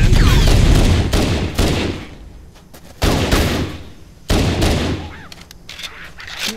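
Halo Combat Evolved gunfire rings out in loud volleys and bursts with heavy booming impacts, rising and dropping in waves. Shouted voices can be heard in places.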